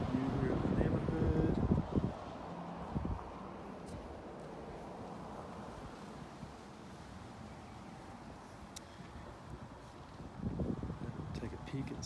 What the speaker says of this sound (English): It's a little windy day, so I apologize for the noise.